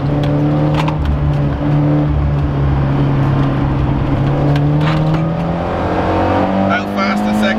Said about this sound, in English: Full throttle in third gear. As fast as we can go.